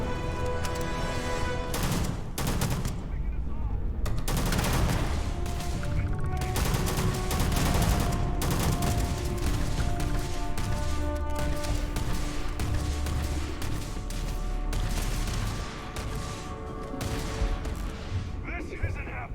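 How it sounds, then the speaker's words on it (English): A minigun fires in Starfield during a United Colonies faction mission, with sustained rapid bursts and booming impacts layered densely for nearly twenty seconds. Brief voices come through in places. "Yeah, like a minigun or something."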